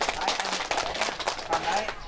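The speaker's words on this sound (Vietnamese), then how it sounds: "đề nghị chúng ta cho một tràng pháo tay" Applause from a crowd at a 70th longevity celebration in Phố Lu, Bảo Thắng, with a steady round of many hands clapping close by for the whole stretch.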